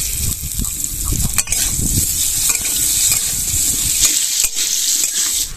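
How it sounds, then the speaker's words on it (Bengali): Cut potatoes with a little turmeric and salt fry in hot oil, giving a loud, close, steady sizzle broken by repeated scraping and stirring strokes in the pan. "আলু ভাজা হয়ে গেছে তুলে নেব"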